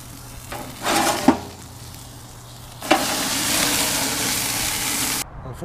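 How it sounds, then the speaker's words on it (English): A cheeseburger patty sizzles on a grill for lunch, a steady hiss rising loud after a few seconds with scattered scrapes and knocks from an improvised spatula before cutting off. "Making the kids a little cheeseburger for lunch on the grill."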